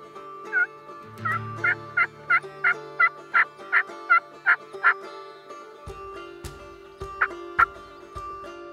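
Wild turkeys gobble repeatedly on Parker Ranch in Hawaii, a rapid run of about a dozen loud, rhythmic gobbles followed by a few scattered calls and soft background rustling, with no talking.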